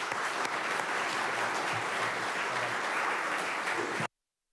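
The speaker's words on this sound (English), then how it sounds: "One more round of applause." Audience in a St. Catharines city council chamber applauding, a steady, dense round of clapping that holds evenly for about four seconds and then cuts off abruptly, with no speech over it.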